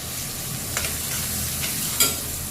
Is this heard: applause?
no